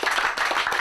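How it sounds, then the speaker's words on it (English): A round of applause from a crowd at an under-14 junior football match between Ormond and Cheltenham, with dense, steady clapping throughout, close and fairly loud, with no talk over it. "so give these guys a round of applause"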